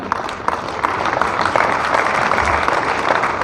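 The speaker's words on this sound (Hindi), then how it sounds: "उन सब लोगों ने ताली बजाई जो लोग यहाँ पे नहीं आना चाहते थे" An audience claps together in a sustained burst of applause. The dense patter stays fairly steady and close, with a few sharper claps standing out.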